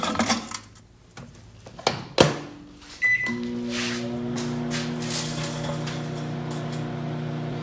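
Microwave oven with an aluminum can inside, opening with clicks and beeps before the motor starts, then a steady loud electrical hum with buzzing overtones running on without talk.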